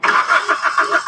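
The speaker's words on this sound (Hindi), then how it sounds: "अब गाड़ी स्टार्ट नहीं होगी" A Maruti Suzuki Ritz hatchback with a fuel pump relay fault cranks without catching, its starter motor churning in a fast, even rhythmic whirr that is loud and close and continues throughout.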